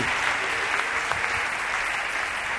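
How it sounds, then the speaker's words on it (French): Church congregation at a pastor's New Year gathering applauding, a continuous, dense wash of clapping from many hands that stays loud and even throughout. "Je pense qu'on peut acclamer pour ça."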